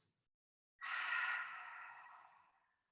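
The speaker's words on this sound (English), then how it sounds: "And a deep breath out." A single long, deep exhale through open lips during a gentle yoga session, close and soft, rising quickly then trailing away slowly into silence.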